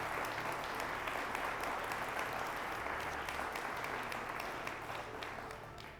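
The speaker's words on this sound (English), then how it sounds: "How about a round of applause for the portfolio companies of Light Rays Ventures?" Audience applause at a venture firm's annual meeting, a steady fairly distant round of clapping from many people that tapers off slightly at the end.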